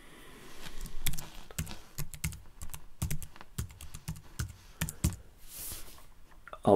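An email address is typed on a computer keyboard, a close run of quick, irregular key clicks with brief pauses between bursts and no talking.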